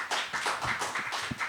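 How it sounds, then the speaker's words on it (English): A small audience at an academic presentation gives brief, quiet applause, with a handful of separate claps in a loose rhythm and no voices. "Please give a warm applause to Nikos."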